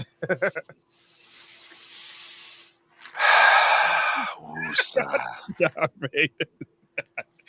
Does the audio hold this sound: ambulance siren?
no